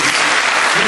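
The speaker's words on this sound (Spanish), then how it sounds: "Aplausos para nuestro Salvador Jesucristo" Church congregation applause fills the room, a dense, loud, continuous wash of many hands clapping at once, steady from start to finish.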